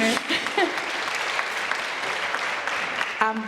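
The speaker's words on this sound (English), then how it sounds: "Yes, clap." A theatre audience claps through a season launch, a steady wash of applause with a voice speaking over it at the start and again near the end.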